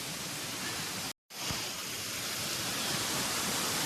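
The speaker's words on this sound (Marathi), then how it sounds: "किती फोर्सने पाणी येत आहे" Waterfall along the Brahmagiri trek steps near Trimbakeshwar, a steady broadband roar of rushing water close by, briefly cut off near the start, then continuing loud and unbroken.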